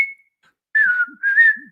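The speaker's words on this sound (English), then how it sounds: "I'm very happy that actually I was able to whistle" A lone whistler carries a short melodic phrase of "Always Look on the Bright Side of Life", clear and close, with a brief held note before a pause and then two sliding, connected phrases.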